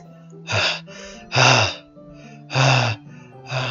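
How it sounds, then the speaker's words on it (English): Repeated sharp hissing inhales through the teeth, four in a row at an uneven rhythm, over a low steady background hum, in the game Doki Doki Literature Club. "A sharp inhale, like someone is sucking the air through their teeth."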